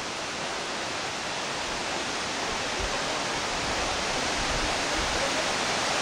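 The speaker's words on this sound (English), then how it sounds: "Falls Creek Falls." Falls Creek Falls, a very tall waterfall, heard as a steady, dense rushing roar of falling water, constant and fairly close, with no voices.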